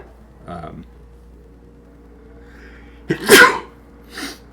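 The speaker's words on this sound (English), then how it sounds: "Sneeze." One loud close sneeze with a sharp burst, preceded by a faint intake and followed by a softer short sound.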